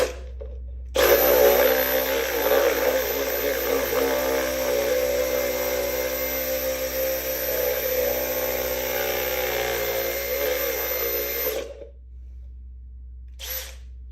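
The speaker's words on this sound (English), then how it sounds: "I'm starting to think the drill might not be the way to go." Power drill whirring steadily for about eleven seconds as it bites into a small workpiece clamped in a vise, loud and continuous with a slight wavering pitch, then cutting off, followed by a brief clatter.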